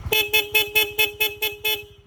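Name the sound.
Seger horn on Honda CB150X motorcycle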